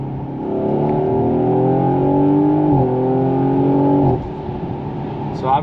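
A twin-turbo car with an aftermarket carbon fiber cold air intake and loud exhaust revs up steadily for about four seconds with a rising drone, then drops off sharply as it downshifts, leaving a lower rumble.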